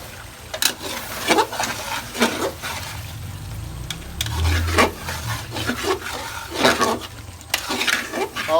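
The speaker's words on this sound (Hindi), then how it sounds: "फ्राई करेंगे, भुनेंगे।" Mutton cooked with cream fries in a pot, a low bubbling sizzle running under repeated scraping and clanking as a spoon stirs against the metal, with occasional louder knocks.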